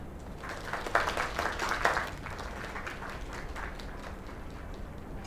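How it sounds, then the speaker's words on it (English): Scattered clapping and light applause from a small in-game crowd, faint and fairly brief, peaking in two bursts near the start before thinning out into a soft murmur. "Another round of applause."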